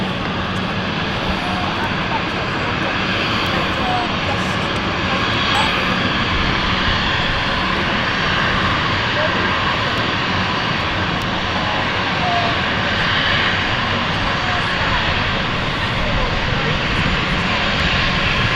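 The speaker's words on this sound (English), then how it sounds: "So this is NetJets Europe coming in from Europe, the citation latitude" NetJets Europe Cessna Citation Latitude business jet on approach into London City airport, a steady broad engine roar that holds at even loudness throughout, fairly near, with chatter in the background.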